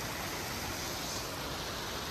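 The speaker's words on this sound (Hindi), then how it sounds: "पानी कितने ऊपर से आ रहा है" A mountain stream pours from high up on a Himalayan trek, a dense, steady rushing hiss of falling water filling the whole moment without pause or voices.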